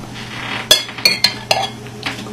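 A metal tablespoon spreading sauce across bread halves gives a few sharp close clinks and scrapes, about five quick taps over a quiet room hum, with no one talking.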